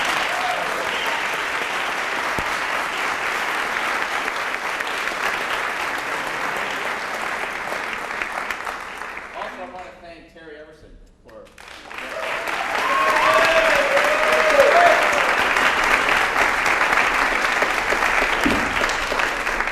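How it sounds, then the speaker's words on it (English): An audience at a brass master class applauds loudly. The clapping fades into a brief lull with a few scattered sounds, then swells again into a full, sustained round. "can we have one more round of applause for BU Trumpet?"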